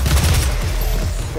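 Rapid gunfire in the video game DOOM, a loud, dense burst of booming shots that runs through the whole brief moment.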